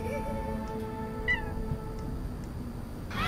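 A cartoonish cat meows once in the video game Little Inferno, a short rising chirp over a steady hum of game music and crackling background.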